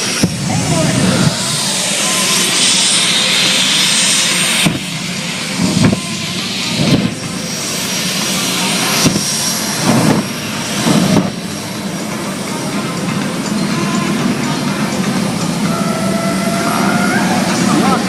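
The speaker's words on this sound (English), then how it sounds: "it is among the most powerful jet-powered vehicles on the planet" The Homewrecker jet-powered vehicle roars steadily and loudly at a lake air show, a continuous broad blast of jet thrust with brief surges, under an announcer talking over a PA.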